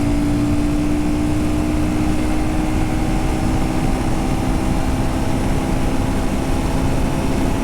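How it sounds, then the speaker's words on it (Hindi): Royal Enfield Guerrilla 450 motorcycle engine droning at high speed in a top-speed run, a steady loud hum under heavy wind rush, unbroken throughout. "इंजन का आवाज़ देखा आपने कितना रोरिंग हो रहा है"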